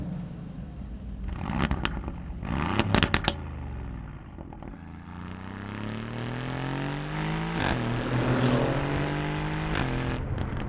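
Aston Martin Vantage Roadster's Mercedes-AMG 4-litre twin-turbo V8 from the C63 AMG, loud and close, with sharp throttle blips and crackles, then a long rising rev through the gears as the car accelerates, with no talk.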